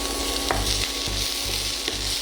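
Ginger and green chillies fry in hot oil for korralu upma, a steady close sizzle with occasional stirring scrapes and a low background hum.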